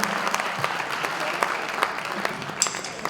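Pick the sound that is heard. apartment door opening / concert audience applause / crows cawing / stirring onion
concert audience applause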